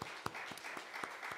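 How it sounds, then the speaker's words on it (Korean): A church congregation at a Wednesday prayer service claps in thanks, a short burst of scattered, separate hand claps over a soft room background. "우리 또 하나님 앞에 감사의 박수 올려드리겠습니다."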